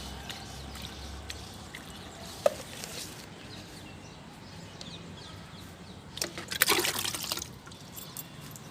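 Liquid flower compost is poured at the roots of garden plants, such as chrysanthemums and roses, giving a short, soft splashing trickle near the end over a quiet outdoor background.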